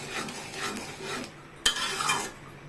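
A spoon stirs a thick tamarind pulp mixture for a sweet-sour chili pickle in a pan. Close, wet scraping swirls are broken by a single sharp clink of the utensil against the pan.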